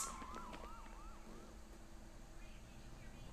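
Ambulance sirens in the video game Trauma Team wail with rising and falling sweeps over a steady low hum, fairly faint and alone, fading after the first second or so.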